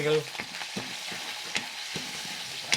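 Curry leaves frying in ghee and cold-pressed oil, a bright close sizzle with a few sharp crackles and pops, with stirring knocks in the pan and no talking.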